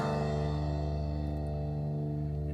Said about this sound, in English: The bass has a nice long decay on it.